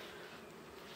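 Italian honey bees being hived in May fill the air with a dense, continuous buzzing hum, close and steady, with no voices.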